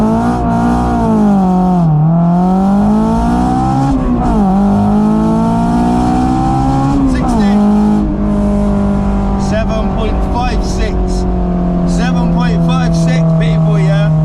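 A Honda S2000 accelerates hard from a standstill in a 0 to 60 run, its engine note climbing through gears with quick shift dips, loud and close, with people talking over it.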